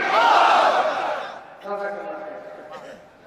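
A crowd shouting a takbir chant at a religious gathering, a loud massed roar that swells then fades, followed by a single voice and a few scattered calls.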